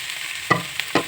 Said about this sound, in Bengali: এবার আমি গাটি কচুটা ঢেলে দেবো।